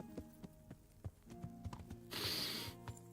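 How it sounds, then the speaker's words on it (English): A horse trots in a video game, a steady clip-clop of hooves with mechanical clicks mixed in and a bright burst of noise near the end. "my horse is just trotting like a"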